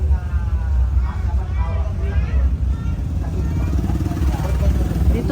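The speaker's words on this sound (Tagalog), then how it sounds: "Dito mo makikita ang daming motor na kano." Many motorcycles passing near a college in Nabunturan, their engines forming a continuous close rumble mixed with crowd chatter and people talking nearby.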